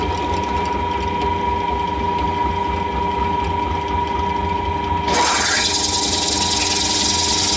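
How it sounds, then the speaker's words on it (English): A drill countersinks a metal part set on a wooden block, giving a steady mechanical whirr with a low motor hum and a fixed tone. A harsher, brighter grinding joins in near the end as the bit bites into the metal. "if you chuck it on over a slightly uneven bit, that will grip to countersink it"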